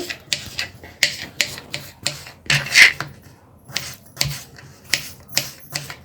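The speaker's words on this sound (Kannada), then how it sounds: "ಇದನ್ನು ಚಿಕ್ಕ ಚಿಕ್ಕದಾಗ ಕಟ್ ಮಾಡ್ಕೊಳ್ಬೇಕು ನೋಡಿ ಹೀಗೆ" Knife chopping peeled potatoes into small pieces for aloo methi, a series of sharp, separate taps on a cutting board at an uneven rhythm, close and fairly loud, with no talking.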